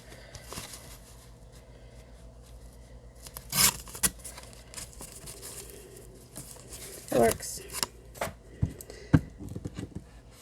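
Paper being cut with scissors for a mosaic style collage, a few sharp snips and crinkling rustles in separate bursts, close by, with quiet talking in between.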